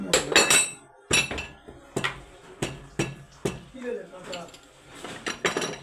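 Metal parts of a 48V motor clink and knock as its back cover comes off, with a series of sharp, close taps and clanks at irregular intervals under occasional low speech.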